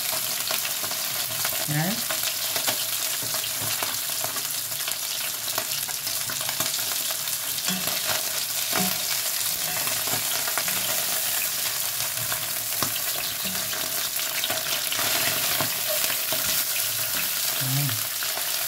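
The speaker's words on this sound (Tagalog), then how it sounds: "So, ganyan lang ako magprito ng isda" Fish frying in oil in a pan, a dense, loud, continuous sizzle close up with occasional stirring clicks, and a brief spoken word near the end.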